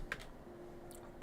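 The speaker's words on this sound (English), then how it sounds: "Oh God, I just hit a button on my keyboard" A couple of faint clicks from a computer keyboard key being pressed by accident, brief and quiet against a low background hum.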